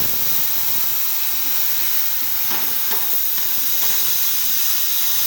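Freon refrigerant escaping from an old air conditioner unit as a loud, continuous broadband hiss, close and steady throughout with faint clanks underneath.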